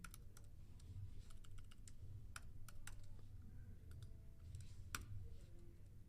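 Steady clicking of keys on a computer keyboard, quick irregular taps with a few louder strikes, close and alone without speech over a low background hum.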